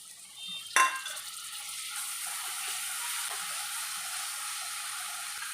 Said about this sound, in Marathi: एक मिनिटभर भाजी टॅमॅटो परतून घेऊया